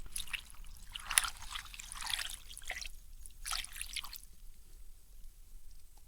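Water is poured into a cooking pot of shellfish shells, giving soft trickling and dripping splashes in a few bursts, close by and moderately quiet with no talk.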